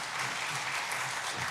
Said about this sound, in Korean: 우리 목사님께 크게 격려 박수